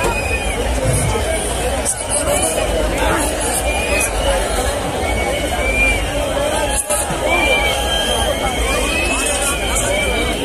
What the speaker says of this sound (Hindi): काफी ज्यादा भीड़ हो रही है क्लॉक टावर के नीचे